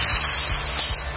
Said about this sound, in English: So instead of an ass ton of liquid spraying out, you're just gonna have just a little bit of vapor.